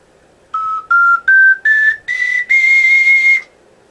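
Ocarina playing a rising sequence of six clear whistly notes, each held briefly with short gaps, the last one sustained longest; loud and close with no other sounds.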